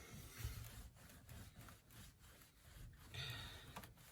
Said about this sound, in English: Then I like to take a real nice fine cloth and then kind of just clean up